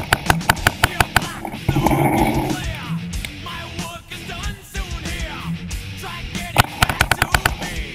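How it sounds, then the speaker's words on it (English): Paintball guns fire rapidly during a large outdoor paintball game. Loud, close bursts of sharp pops start and end the stretch, with shouting voices and a muffled lull in between. "He's shooting out of the hole!"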